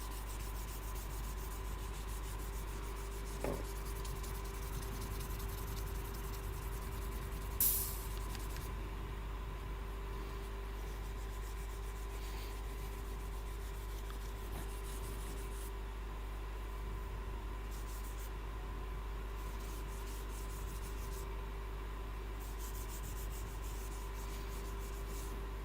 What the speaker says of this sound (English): let me just sand this a little bit, especially on the curly parts